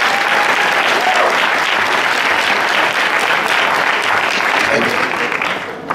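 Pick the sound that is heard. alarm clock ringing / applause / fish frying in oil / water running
applause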